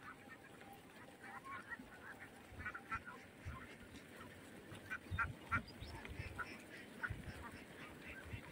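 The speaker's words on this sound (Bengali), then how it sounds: "দেখুন হাঁসগুলো এখন সব সন্ধ্যা ঘনিয়ে আসতেছে, সবগুলো হাঁস এখন ঘরে চলে যাবে।" A flock of ducks quacks at dusk, with faint, scattered, overlapping calls close by in an otherwise quiet rural setting.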